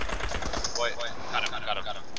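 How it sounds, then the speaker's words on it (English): Rapid automatic gunfire in a video game rattles continuously at moderate loudness, blended with a busy game soundscape and voices talking over it. "I'm shooting him. I'm shooting him."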